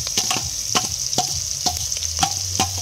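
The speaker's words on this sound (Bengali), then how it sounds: "পেঁয়াজ আর কাঁচা লঙ্কা এটাকে একটু ভেজে নেবো।" Onion, green chilli, cloves, cumin and dried chilli frying in oil, a bright steady sizzle broken by repeated sharp scraping and tapping strokes of stirring, close and fairly loud with no talking.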